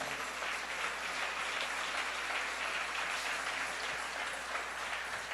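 A church congregation claps for the King during a sermon, a faint, distant wash of steady applause that continues evenly without voices on top.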